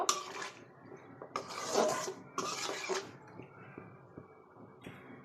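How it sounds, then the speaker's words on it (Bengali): Chopped tomatoes are stirred into a rohu fish curry in a pan, making clattering spoon-on-pan scrapes with wet squelching, several bursts in a row, close and moderately loud. "তো যে এখানে 3টা বড় সাইজের টমেটো আমি কেটে নিয়েছি, তো সেগুলো দিয়ে দিলাম, দিয়ে আমি এখন মিক্স করে নিব"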